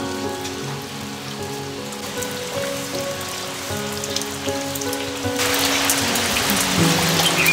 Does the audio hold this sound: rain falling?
yes